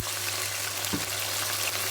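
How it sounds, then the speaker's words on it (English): Onions frying on high heat in a pan for chicken pilau sizzle steadily as a splash of water hits them, giving a brief, louder hiss and bubble partway through. "So I'm going to add a splash of water"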